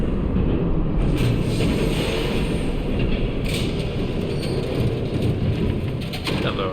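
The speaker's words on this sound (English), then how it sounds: "There's a train coming. Take cover." A train rumbles past in the Batman: The Telltale Series video game, a loud, steady low roar with clattering mechanical noise throughout.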